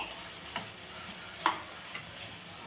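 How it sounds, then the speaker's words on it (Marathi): Onion frying in a pan over medium gas heat, a soft continuous sizzle broken by a few light clicks of stirring. "आता आपण सुरुवातीला कांदा भाजून घेऊया छान गुलाबी रंगापर्यंत येईपर्यंत आपल्याला कांदा छान भाजून घ्यायचा आहे"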